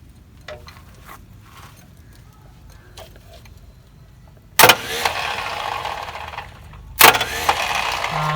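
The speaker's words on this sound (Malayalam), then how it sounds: "എന്തായാലും ക്രാങ്ക് ചെയ്യുന്നുണ്ടല്ലോ." A Swaraj Mazda truck being cold-started after six years of sitting, its engine cranking in two loud, rough bursts over a quieter mechanical background.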